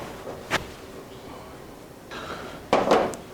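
Skillet and cookware handled in a kitchen while cooking mackerel patties, with a single clank early, then a cluster of louder metallic knocks and rattles near the end, close, with faint talking in between.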